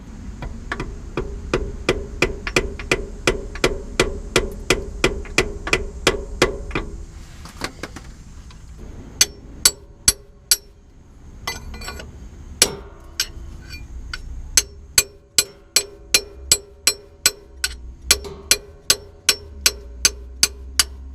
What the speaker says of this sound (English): with a screwdriver, putting it somewhere over here and hitting it with a hammer